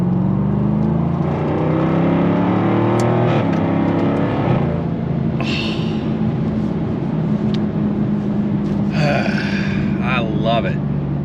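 A stock 2024 Jaguar F-Type R75 V8 exhaust drones with a steady, rich engine note that swells briefly partway through, while someone talks over it nearby.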